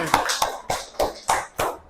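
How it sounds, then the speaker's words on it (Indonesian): A classroom group claps in short bursts, about six or seven sharp rounds of hand claps separated by brief pauses, close and fairly loud, with no talking over them. "Tepuk tangan"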